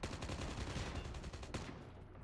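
Rapid automatic gunfire in a Minecraft game, a fast burst of evenly spaced shots rattling for about a second and a half before cutting off, fairly quiet overall.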